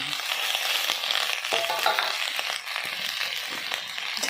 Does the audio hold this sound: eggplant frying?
yes